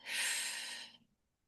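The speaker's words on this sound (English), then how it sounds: "take 5 deep breaths" A single deep breath during a guided relaxation exercise, a soft breathy exhale lasting about a second, close and quiet, then silence.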